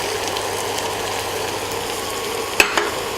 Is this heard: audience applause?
no